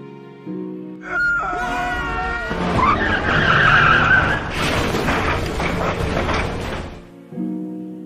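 A car skids and overturns in a Korean drama scene: a loud, sustained tire screech swells and roughens into a tumbling rumble for several seconds, with tonal sound before and after.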